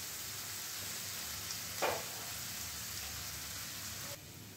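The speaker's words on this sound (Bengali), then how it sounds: "এই আদা রসুনটাও মিনিট 2 মতো ভাজা হয়ে গেছে।" Ginger and garlic fry in a pan in a faint, steady sizzle that keeps going evenly, with one brief scraping stir near the middle.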